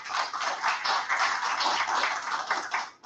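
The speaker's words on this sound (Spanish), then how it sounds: "para quien pido un voto de aplausos" An audience at a judicial ethics lecture applauds in a dense, even roll of many hands clapping. It is moderately loud and continuous for about three seconds, then stops abruptly.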